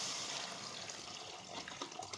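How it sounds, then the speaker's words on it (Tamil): Tamarind water is poured into a sardine pepper fish curry, a short steady liquid splash and gurgle heard close, with no talk. "இப்போ இந்த புளி தண்ணியை உள்ளே சேர்த்துக்கோங்க."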